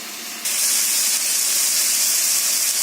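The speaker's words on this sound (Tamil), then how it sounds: "தக்காளி நல்லா வதங்கட்டும்" Chopped ripe tomatoes sauté in a hot pan for vegetable kurma, giving a loud, steady sizzling hiss that jumps up in volume after a brief quieter start and holds evenly throughout.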